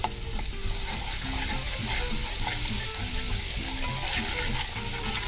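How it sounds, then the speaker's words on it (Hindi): Ground ginger and garlic frying with browned onion in hot oil for beef pulao, a steady close sizzle with stirring scrapes throughout, loud and continuous with no talking. "इसको थोड़ा सा भूनेंगे।"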